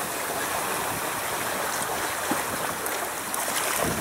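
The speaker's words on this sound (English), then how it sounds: "Look at it, the waves are pushing us." Waves wash and splash against a sailing boat under way, a steady broad rushing of water with occasional small slaps, close and continuous, no talking.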